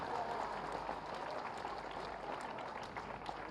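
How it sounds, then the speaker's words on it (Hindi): A crowd claps at a public event in Gorakhpur where development projects are being inaugurated, a dense, steady roar of applause filling the whole stretch without a break. "गड़गड़ा के ताली।"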